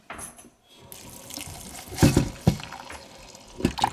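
Water runs from a tap into a coin tumbler loaded with stainless steel media, soap and coins. The splashing stream is close and moderately loud, with a few louder sloshing surges near the end.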